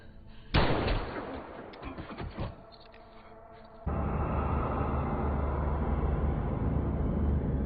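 Gunfire in a mafia crime film scene as a boss is shot: a loud sharp blast followed by a few quicker cracks, then a steady dense rumble of movie background noise.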